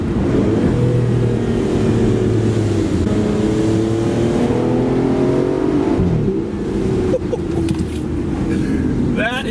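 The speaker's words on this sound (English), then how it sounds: "That is how a sports car should sound." A 2018 Aston Martin Vanquish S engine roars loudly and steadily as it accelerates, its pitch climbing through gear changes, with a brief voice near the end.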